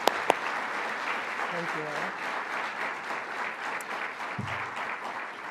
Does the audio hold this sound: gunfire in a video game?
no